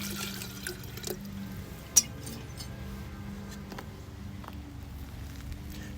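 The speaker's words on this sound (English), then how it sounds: "here is our battery solution. Let's go ahead and put it in the battery now. I'm gonna pour it through this." Heavily diluted battery solution is poured into the battery of a 1929 Buick, a faint trickling and dripping of liquid with a few small clinks, quiet and close in an otherwise still space.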